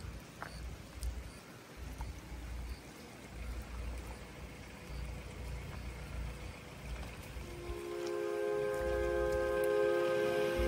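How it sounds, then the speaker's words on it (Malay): Steady rain pattering in Osaka as a continuous wash of noise, with a low rumble of passing traffic and a rising tonal hum near the end. "sampai-sampai hujan lah"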